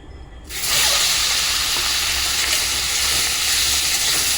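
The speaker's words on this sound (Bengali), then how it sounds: "মাংসটা একটু ভেজে নেবো হালকা করে।" Chicken pieces fry lightly in melted butter in a kadai pan, a steady close sizzle and hiss that kicks in after a brief quiet start and holds evenly throughout, with no talking.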